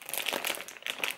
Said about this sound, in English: See if I can just open it up like a bag.